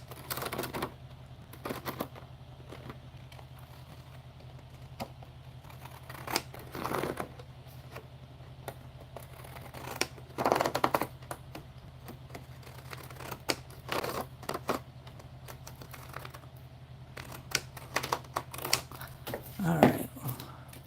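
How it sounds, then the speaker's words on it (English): Pinking shears snipping parchment paper, a sparse run of short crisp cutting crunches and clicks at irregular intervals, close but fairly quiet over a low background hum. "Even if we take a smidge off with these pinking shears."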